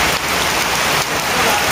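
Heavy rain falls steadily in a dense, continuous hiss and patter on surfaces, loud and close with no voices.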